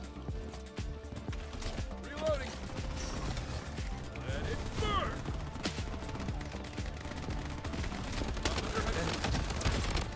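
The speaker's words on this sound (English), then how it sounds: "I can't handle the gun sound, bro." Dense gunfire from many players in the Bloodstrike video game, with overlapping rapid shots and bursts running steadily and loudly throughout over a busy game soundscape.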